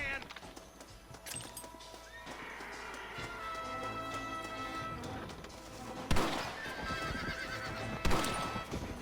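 A horse in the Red Dead Redemption video game whinnies loudly amid clip-clopping hooves and game action, with sharp bangs near the end and in-game voices speaking throughout.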